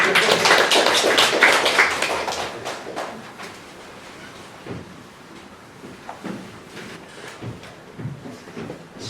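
Audience applause at an academy information session, a burst of many hands clapping loudly at first, then thinning out into scattered claps and fading to a few faint taps.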